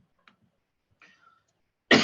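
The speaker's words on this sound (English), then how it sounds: "I'm coughing a lot" A single abrupt cough from a person at a computer, loud and close, bursting in at the end after near silence and a few faint small noises.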